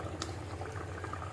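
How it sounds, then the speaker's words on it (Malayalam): Fish curry simmering in a covered pot on a low flame, giving a soft, steady bubbling with faint patter and no talk. "ലോ ഫ്ലെയിമിൽ കിടന്ന് വെന്ത് വരട്ടെ."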